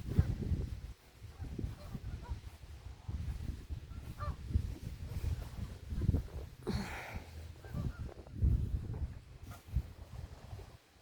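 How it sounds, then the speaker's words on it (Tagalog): A flock of geese at a beach park keeps up a steady stream of nearby honks, with a light wind in the background. "Daming gansa mga ka-friends."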